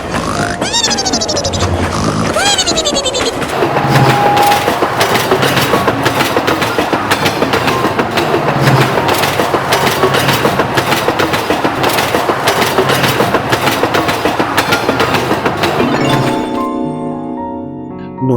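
A cartoon train runs along its rails with a loud, continuous clickety-clack and rumble, plus a few whistle-like tones near the start. The sound stays strong until it cuts away near the end.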